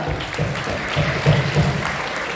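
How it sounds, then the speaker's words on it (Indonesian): A group of university community-service students claps together at an outdoor village environmental session, a short burst of scattered applause with some voices mixed underneath. "Kita tepuk tangan dulu semuanya."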